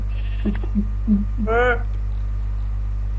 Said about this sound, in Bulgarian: Много овце.